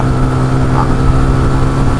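A Yamaha R15 motorcycle revving at high RPM, a loud, steady, close engine drone holding a constant pitch without a break.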